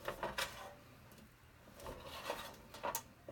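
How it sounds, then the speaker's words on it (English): A squeegee drags chalk ink across a metal surface in quiet, close rasping strokes, several passes in a loose back-and-forth rhythm. "I'm going to take my squeegee and I'm going to spread it out like this."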